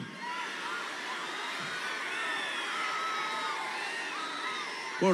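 A large crowd at a Pawan Kalyan political speech in Andhra Pradesh cheers and whoops continuously. The roar is dense and somewhat distant, with high shouts rising above it throughout.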